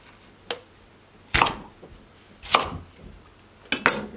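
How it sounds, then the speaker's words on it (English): A knife dices Red Pontiac potatoes on a cutting board, four sharp separate chops spaced about a second apart, close and crisp against a quiet background. "We are going to go ahead and get it diced up and put it in the pan"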